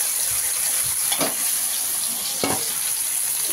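Leafy greens tossed into hot oil with chili, sizzling steadily with a high frying hiss and two brief clatters of stirring.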